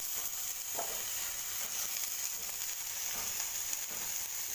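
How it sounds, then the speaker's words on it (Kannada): Sliced potatoes shallow-fry in oil for a side dish, giving a continuous close hiss and crackle with faint stirring taps scattered through it. "ಇದು ಶಾಲು ಫ್ರೈ ಮಾಡೋಣ."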